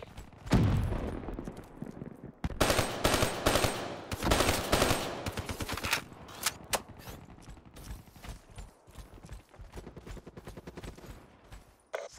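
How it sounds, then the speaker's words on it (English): Rapid automatic gunfire from a Black Ops 3 multiplayer hardpoint match in Mercenary mode, loud bursts and scattered shots rattling on and off throughout with mechanical clatter between volleys. "Shooting everywhere."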